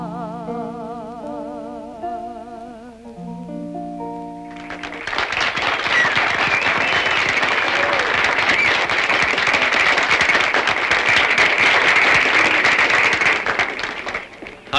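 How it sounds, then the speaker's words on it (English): A song ends with held musical notes, then a crowd breaks into loud, sustained applause and clapping that fills the rest of the clip. "The crowd loved it."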